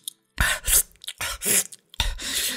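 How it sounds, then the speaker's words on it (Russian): Exaggerated loud slurping of soup while eating, in three noisy wet bursts separated by short pauses, close and alone with no talking. "поедание им супа звучит примерно так"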